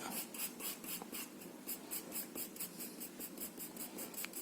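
Pencil strokes fill in a drawing, light quick scratchy marks on paper in a steady repeating rhythm, close and soft, with no talking.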